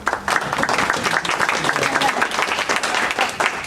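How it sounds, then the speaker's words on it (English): People at a state committee meeting on radioactive and hazardous materials give a staff member a dense, lively round of applause, close and loud with many hands clapping throughout. "We'll give her a round of applause."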